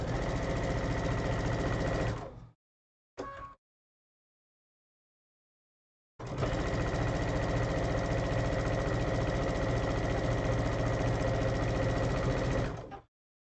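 A sewing machine stitches hourglass quilt blocks together in two steady runs of mechanical whirring, one of about two seconds and a longer one of about seven seconds, broken by a very short burst and a silent pause.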